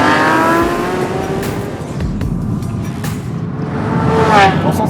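Lamborghini Aventador SVJ (2019) V12 engine revving, a loud continuous roar with rising and falling harmonic pitch, swelling again near the end.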